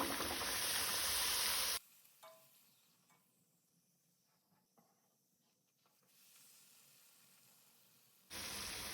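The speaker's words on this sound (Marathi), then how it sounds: "पुरी अशी दोन्ही वाटल्यान बरी फ्राय करून घेवपाक जाय, तळून घेवपाक जाय." Puri frying in hot oil in a home kitchen, cooked for a Goan potato bhaji and puri dish. A loud, steady sizzle opens and closes the clip, with quieter crackling and faint sizzling in between.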